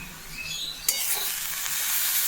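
Food fries in a pan with a steady bright sizzle that jumps louder partway through as more goes into the hot oil, with no talking.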